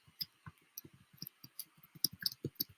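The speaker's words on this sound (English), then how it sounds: "now she's typing." Rapid, uneven keystrokes on a keyboard, with light clicky taps in short bursts, close and fairly quiet against a faint room hush.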